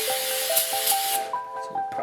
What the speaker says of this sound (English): We're gonna use some throttle body cleaner because I'm out brake cleaner.